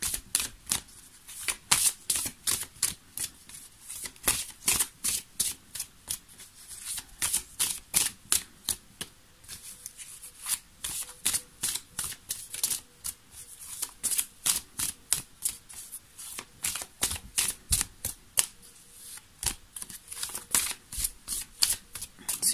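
Tarot cards shuffled over and over, a fast regular run of crisp papery slaps and riffles repeating for over twenty seconds, close and clear with no talking.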